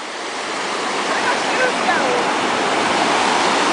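Cold Pacific Ocean surf washes in around bare feet at the shoreline, a steady close rushing hiss of water that swells slightly partway through, loud and continuous without voices.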